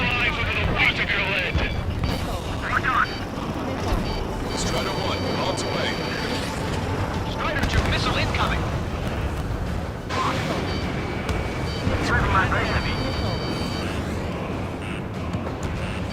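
Missile launches and blasts from the combat-flight video game Ace Combat 7, a dense, continuous roar of jet engines and explosions with bursts and swells throughout, mixed with radio-style voice chatter.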